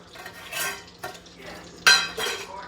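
A utensil stirs butter in a pan while a gumbo roux is being made. Light scraping and clinking strokes come in a few uneven bursts against the pan, close and moderately loud, with no talk.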